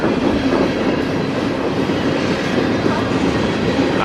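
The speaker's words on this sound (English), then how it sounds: "this train is passing through" A freight train rolls steadily past at close range in Fostoria, Ohio, a loud continuous rumble of railcars and wheels on track with no pause.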